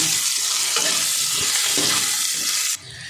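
Potatoes fry in hot oil with a pinch of turmeric, a loud dense sizzle heard close up with a few stirring knocks, until the sound drops away abruptly near the end.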